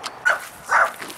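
Two short barks from a dog at a busy dog park, fairly close and a moment apart, against quiet outdoor background.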